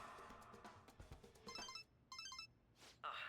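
A phone ringtone chimes in Persona 5 Royal, a bright repeating electronic melody in short bursts at moderate volume, cutting in after a stretch of low muffled voices and background music.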